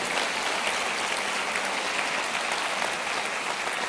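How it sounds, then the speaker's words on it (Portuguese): A church congregation applauds in praise during a worship service: dense, steady clapping from many hands fills the room for the whole stretch, with no voices standing out. "Pode aplaudir o Senhor, louvando a Ele pela sua palavra."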